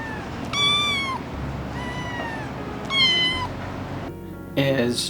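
Seal bicolor Ragdoll kitten giving several clear, high meows in short bursts separated by pauses, close to the microphone over a steady background hiss.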